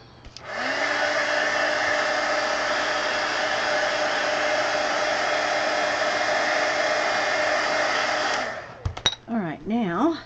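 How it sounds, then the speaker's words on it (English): Heat gun blowing steadily to dry marker ink on cardstock, a loud continuous roaring whoosh lasting about eight seconds before switching off, followed by brief clicks and a short voice. "so let me hit it with a heat gun."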